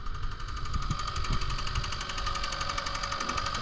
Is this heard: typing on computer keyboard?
no